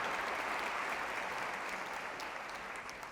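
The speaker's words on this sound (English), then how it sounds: "Give Linnea a round of applause," A live audience claps for Linnea, a volunteer at a social-experiment event, with a sustained, even wash of many hands across the whole stretch, fading slightly toward the end.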